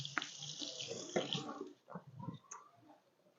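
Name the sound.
washing hands under running tap water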